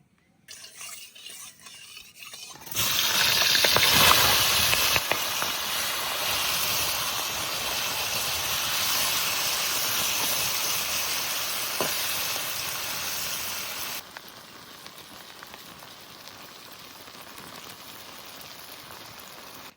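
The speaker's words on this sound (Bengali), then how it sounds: "এবার কড়াইতে একটু সর্ষের তেল দিয়ে আবার ওই চিংড়ি মাছ ভেজে নেবো" Prawns are dropped into hot mustard oil and burst into loud, crackling sizzling, which continues steadily before settling into a quieter fry.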